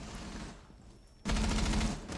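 Gunfire exchanged between two teams in the video game Rainbow Six Siege during an esports match, first muffled and distant, then bursting into loud rapid automatic fire for the final second.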